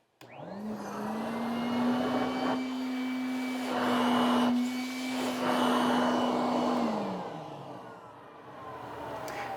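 A Vortex Hurricane mulcher machine starts up and runs with a loud, steady whining hum, like a vacuum, for about six seconds. Its pitch then drops as it winds down, with no talking.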